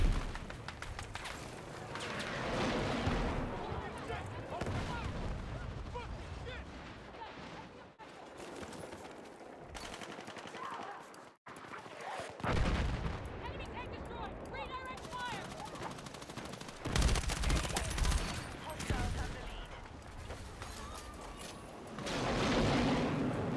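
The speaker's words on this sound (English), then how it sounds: "Explosives ready!" Rapid machine-gun fire, scattered gunshots and booming explosions from a sci-fi video game battle rattle almost nonstop, loud and dense, with brief lulls and shouting voices mixed in.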